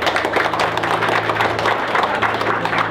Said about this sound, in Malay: Okey, tepuk tangan semua.